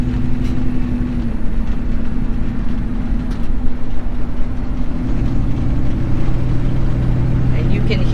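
A 1979 Dodge Li'l Red Express truck cruises with a loud, steady low engine drone and road rumble filling the cabin, holding an even tone throughout.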